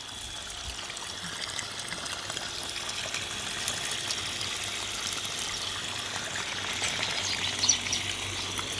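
Water pouring and trickling steadily into a cooking pot while vegetables are prepared, a continuous close splashing flow with no talk.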